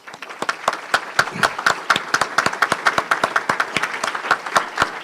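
A small audience at a ceremony applauds humanitarian service nominees: a loose patter of individual, distinct claps, fairly close and sustained, with no voices over it.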